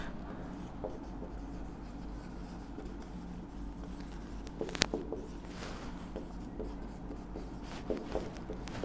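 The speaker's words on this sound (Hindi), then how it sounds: "मैं इसको यहीं पे लिख देती हूँ" Chalk or marker writing on a board during a chemistry lesson on electrolytic cells, with faint scratchy strokes and a few sharper taps over steady background hum, no talking.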